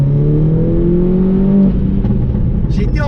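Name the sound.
Mini Coupe JCW 280 hp stage 2 engine accelerating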